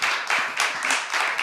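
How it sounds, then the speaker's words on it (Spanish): Audience applause after a conference panel talk, a steady wash of many hands clapping close by, with brief swells through the short burst and no voices over it. "Un aplauso para ellos."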